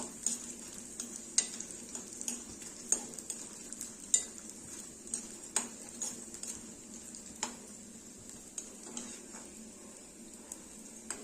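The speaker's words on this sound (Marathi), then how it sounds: "सो अशा पद्धतीने मी सगळा डिंक इथे तळून घेणार आहे" Edible gum (dinka) fries and puffs up in a pan of hot fat, making a faint continuous sizzle broken by regular soft scrapes and taps of a spatula.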